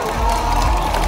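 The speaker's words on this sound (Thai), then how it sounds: "ปรบมือหน่อย" A crowd at a Toyota event in Bangkok claps and cheers in a dense, continuous wash of sound lasting about a second, with no clear individual voices rising above it.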